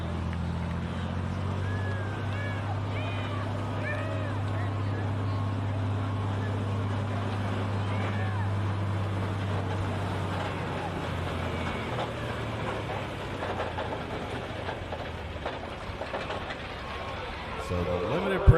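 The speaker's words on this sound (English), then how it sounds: "So the Limited Pro tractor's getting ready to go." A Limited Pro pulling tractor idles with a low, steady engine drone in the lineup area at a tractor pulling event, the rumble fading partway through under distant crowd and chatter.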